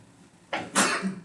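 A single sneeze bursts out during a classroom lecture on kidney function, a short sharp broadband blast with a brief lead-in breath, heard at moderate distance against quiet room tone.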